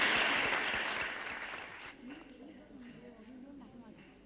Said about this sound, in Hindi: तो आइए हम उनके सौजन्य के लिए, उनकी सौजन्यता के लिए तालियां बजाकर